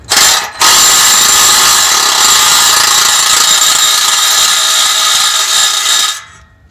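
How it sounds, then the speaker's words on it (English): A power tool, likely an impact wrench, runs in one sustained loud whir of about six seconds during cat-back exhaust work on a Mazda 6, preceded by a brief start-stop blip, close up with no talking. "I love power tools."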